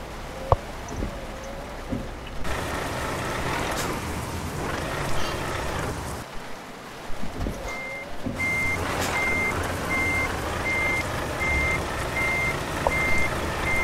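A truck reversing in Euro Truck Simulator 2 during an alley dock, its backup alarm sounding a steady run of evenly spaced high beeps over a constant diesel engine hum, loud and close.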